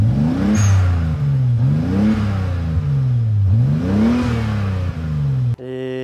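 A swapped Lexus car engine with its mufflers and catalytic converters removed revs repeatedly, rising and falling in a loud, close, throaty rhythm before cutting off abruptly.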